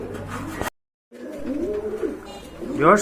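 Soft, low cooing of desi Golla pigeons close by, a brief gap of silence, then more throaty coos with a faint flutter near the end.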